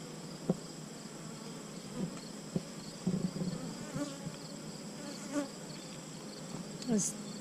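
Honeybees buzzing around an open hive, some robbing wax, with scattered close wingbeat passes and small knocks over a faint steady drone, no talking.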